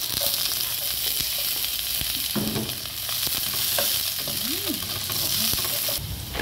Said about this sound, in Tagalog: Yung ating ginger, i-brown lang natin siya konti.